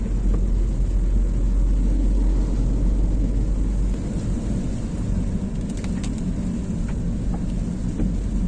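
Rain falls steadily on a road at an outdoor religious fair, a dense, constant roaring hiss with a deep low rumble throughout and no clear voices.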